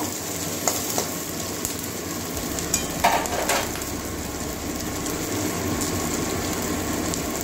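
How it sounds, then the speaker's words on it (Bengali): Chopped onions fry in a hot pan for a home-style Bengali recipe, giving a steady, dense sizzle that runs throughout at an even level, with a few faint clicks and no talking. "পেঁয়াজটা ভালো করে ভেজে নেব।"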